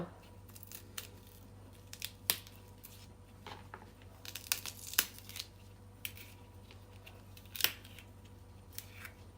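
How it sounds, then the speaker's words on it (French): A knife cuts through fava bean pods, giving quick soft snips and crisp snaps at an irregular pace over a low steady hum, close but quiet. "Soit je le coupe de cette façon, comme ça j'enlève le fil."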